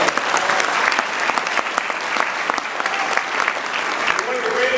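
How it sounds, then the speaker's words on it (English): Sustained applause fills a political party dinner hall, dense steady clapping from a large crowd that holds evenly throughout. "So give Mike a great applause."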